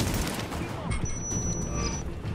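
Sniper gunfire in the video game Tom Clancy's The Division: dense gunfire and booming blasts rumble continuously through a busy combat soundscape, loud and close.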